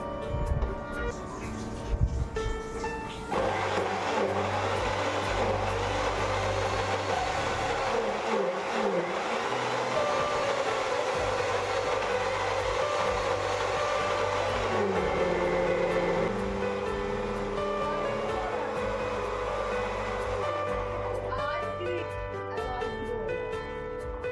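A blender whirring through oats, banana and papaya for a smoothie, a loud, steady motor whine that kicks in after a brief start, holds for most of the time, then winds down near the end.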